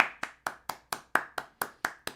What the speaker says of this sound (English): You get applauded by me.